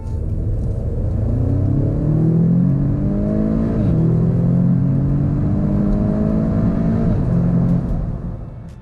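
A 2017 Audi S3 revs hard through a long 30 to 70 acceleration, its deep roar climbing in pitch across several gear changes, loud and steady throughout.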